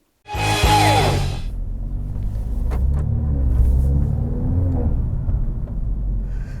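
A Mercedes A45 AMG engine bursts to life loudly, then settles into a deep, steady rumble with a couple of gentle revs rising and falling.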